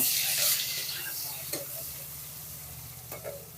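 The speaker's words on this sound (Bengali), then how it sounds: "তারপর একটা মাঝারি সাইজের পেঁয়াজ কেটে তেলের ভিতরে দিয়ে দেবো একটু নেড়ে নেব" Chopped onion fries in hot oil for a fish dish, a close, steady sizzle broken by a few scraping stirs of the spoon.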